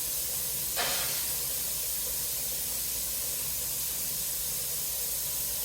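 Steam hissing steadily from the valve of a pressure canner processing jars of black beans, a constant close, soft spray-like rush with one brief louder burst near the start, and no talk.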